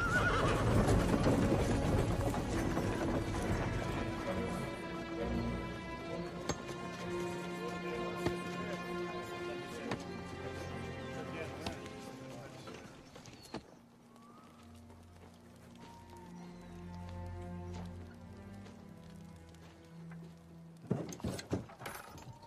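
A horse whinnies and neighs with clip-clop hoofbeats over a dense orchestral music score, loud at first and then quieter, with a sudden burst of sound near the end.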